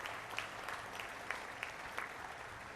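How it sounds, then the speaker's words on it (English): Steady applause from a university convocation crowd, a dense wash of clapping with a few sharper individual claps standing out, continuous and fairly distant. "A round of applause for all the faculty members"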